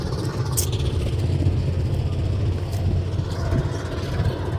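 A passing fishing trawler's engine makes a steady, low, droning rumble from a distance, blended with constant outdoor background noise.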